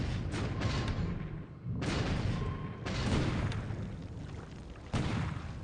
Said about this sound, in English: apparently one of them hit the mine